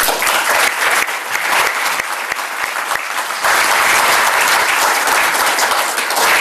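Sustained, dense applause fills a French parliamentary conference hall, a crowd clapping loudly and steadily throughout and briefly surging louder toward the end.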